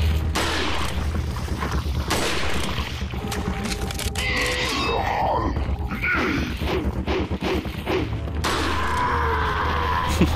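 Close-range rifle shots and heavy combat in Resident Evil 4, in the throne room hall and service tunnel, with repeated sharp bursts over a dense, loud game soundscape of grunts and crashes, no speech.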